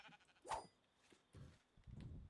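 Sheep in the video game Minecraft bleat faintly, with one clear bleat and two lower, muffled bleats a moment later.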